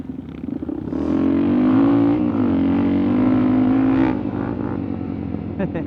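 Dirt motorcycles race side by side on the Hurrah Pass trail near Moab, Utah, their engines revving up into a loud sustained drone that holds steady, then drops off toward the end.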